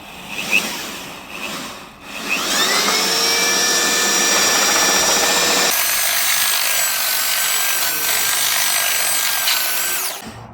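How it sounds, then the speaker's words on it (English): A Festool power drill whirs steadily after a brief start-up, churning and grinding a gritty mix of Pebble-Mix 2K resin and pebbles, its pitch shifting partway through; no talking. "we're just going to use a Festo drill. We're going to give this a quick mix."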